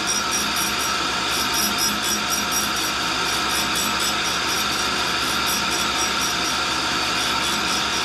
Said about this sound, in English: It's really best to keep everything kind of free running without bogging with the grinder.